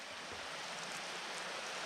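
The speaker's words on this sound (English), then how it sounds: "There's a creek running" A creek running beside an abandoned railroad makes a soft, steady rush of flowing water, faint and continuous with no voices over it.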